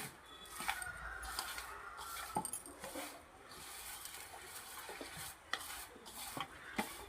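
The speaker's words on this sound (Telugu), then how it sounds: "ఆయిల్ వేసుకొని మొత్తం ఆ కారం దానికి పట్టేలా చేస్తున్నారు" Cauliflower pickle is mixed with oil and chili powder, giving quiet wet stirring and squelching with scattered soft clicks of a utensil against the bowl over several seconds.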